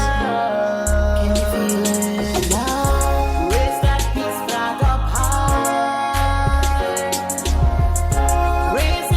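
A new song plays at full volume, a steady bass-heavy beat under layered melodic lines and a singing lead, with no talking over it.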